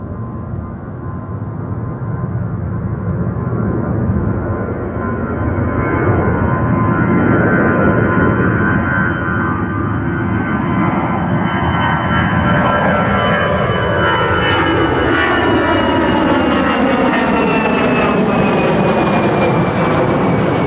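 Jet aircraft engines roar loud and continuous at London Gatwick Airport. The broad rumble swells and its pitch slowly shifts as a plane passes, with no talk over it.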